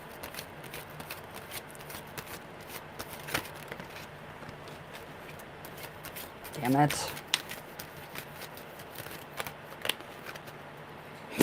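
Tarot cards are shuffled by hand in soft, irregular riffles and slides close by, with a voice speaking briefly over them.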